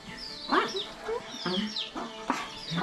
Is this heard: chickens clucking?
yes